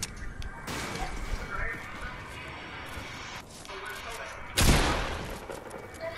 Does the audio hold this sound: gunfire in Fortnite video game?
yes